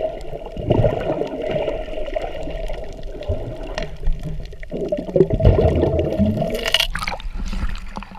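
Sea water sloshes and splashes around a swimmer at a beach resort on a choppy day, with gurgling and trickling throughout and a louder rush near the end.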